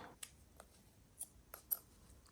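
Scissors make a few short, quiet snips through paper for planner decoration, each snip a soft, isolated crisp cut in a near-silent room.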